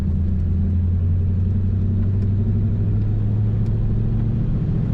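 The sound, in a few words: 1940 Ford Standard 5-Window Coupe engine idling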